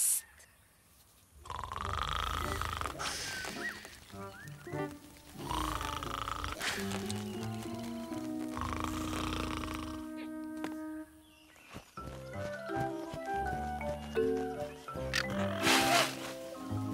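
Loud, drawn-out snoring from an animated animal character at a jungle school, coming in repeated rasping breaths between stretches of music and other sounds.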